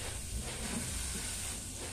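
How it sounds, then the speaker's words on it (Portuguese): Garlic frying in a pan in a home kitchen, giving a steady, continuous sizzle and hiss at low volume with no talking over it. "Tô fritando aqui meu alhinho."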